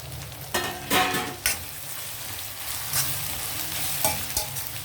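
Slit green chillies and curry leaves fry in hot oil for a chicken curry, a steady sizzle broken by several loud spatula scrapes and stirring knocks against the pan.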